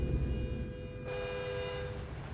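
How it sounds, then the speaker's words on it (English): Car horns honking in the truck-driving video game American Truck Simulator, a sustained tonal toot over low engine and road rumble, moderately loud and steady, with no voices. "You can honk at me all you want, guys."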